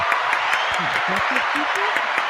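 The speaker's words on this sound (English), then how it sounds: "That is the most well-coordinated chat applause I've ever heard since the last show." Dense, even applause from an audience runs steadily throughout, with a voice talking over the clapping.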